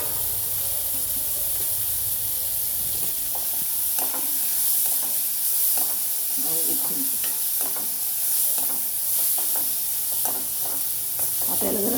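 Chopped tomato, turmeric and chillies frying in a pan over low heat, with a steady bright sizzle under repeated soft scrapes and stirring clicks of a spatula, close and continuous with no talk.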